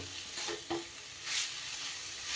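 Milk powder is mixed into a sweet patishapta pitha filling in a pan, with a soft close sizzle and brief scraping strokes of the spoon, quiet and without speech.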